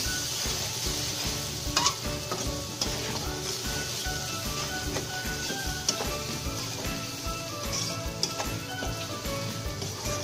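Garam masala powder made with cumin and coriander is roasted in a pan for egg khichuri, giving a steady, dense sizzle with continual scraping of a spoon through the spices, fairly close and with no voices.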